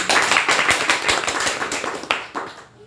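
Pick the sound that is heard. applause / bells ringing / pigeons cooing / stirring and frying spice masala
applause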